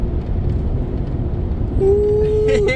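A repaired truck cruising quietly off the gas with its engine misfire gone, a steady low road and engine rumble with a brief tonal whine near the end.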